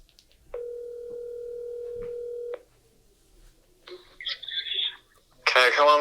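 A podcast guest's phone line rings out in one sustained electronic tone lasting about two seconds, then silence, some clicking connection noise, and a voice picking up.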